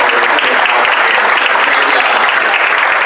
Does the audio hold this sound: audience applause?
yes